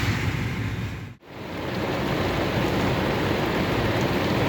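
Steady rain hisses around a 2008 Hyundai Elantra fitted with WeatherTech window deflectors, sitting in flooded-street traffic; a dense, even wash of noise fills the clip, broken only by one short dropout near the start.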